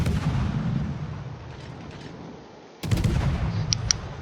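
Warship main guns firing in a naval battle game, a sudden heavy booming blast with rumbling low roar, a couple of sharper cracks following, over steady ambient engine-like drone.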